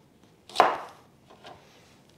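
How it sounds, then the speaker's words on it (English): A knife slicing green onions (scallions) on a cutting board gives one sharp close chop followed by a faint second cut, with quiet pauses around them and no voices. "Then I'm going to thinly slice the scallions or green onions"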